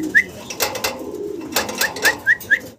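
A pair of indigo-coloured fancy pigeons at a pigeon market, giving short bright coos and calls several times over soft flapping and shuffling noises, close by and alone.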